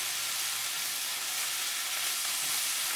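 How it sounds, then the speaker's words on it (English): Chopped onions, ginger and garlic fry in a hot pan for a Chinese spicy beef with tofu dish, a constant, even sizzle with a soft hiss and no talk. "kind of fry them up a little bit on the onions and the gingers and the garlic"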